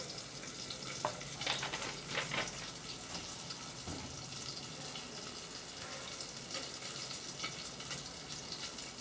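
Mustard and poppy seed paste with chilli and water being mixed, a faint, soft wet stirring and swishing close by with a few light clicks of the spoon.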